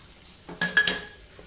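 A spoon clinks and scrapes a few times against a pan while jaggery, rice and coconut are stirred in ghee, brief and fairly faint.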